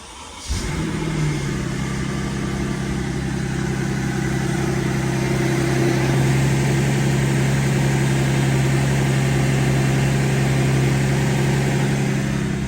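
A Mercedes S600 W221 engine cranks and fires, then settles into a steady, loud, smooth idle with a low hum that holds unbroken to the end.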